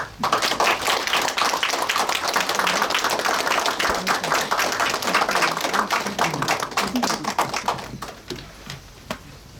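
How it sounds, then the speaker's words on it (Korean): Committee members at a plenary meeting applauding, a dense, close burst of clapping that holds steady for about eight seconds, then thins out into a few scattered claps and fades. "옆에 계신 박수 한번 쳐주시죠."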